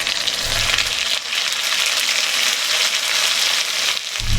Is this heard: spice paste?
yes